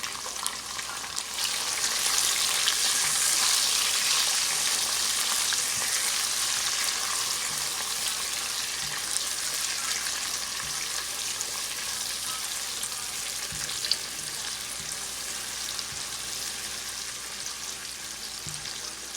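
Half a tomato added to onions frying in oil in a pan, a steady dense sizzle lasting throughout with faint occasional stirring clicks, no talk.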